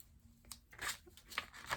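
Scissors cut the flap off a coloured craft envelope, making a few quiet, close snips and crisp paper crunches in short bursts.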